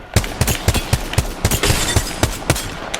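Rampage LMG firing in Apex Legends, a steady series of about a dozen heavy, evenly spaced shots in a slow rhythmic cadence, loud and close with no talking.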